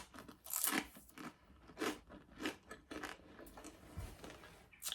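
Someone bites and chews air fryer crisps, giving close, loud, dry crunches in an irregular rhythm of sharp bursts, with no talking.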